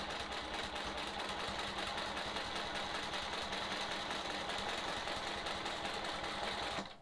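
Sewing machine stitching in the ditch along quilt seams, a fast continuous mechanical whir running steadily and loud the whole way, then stopping abruptly at the end.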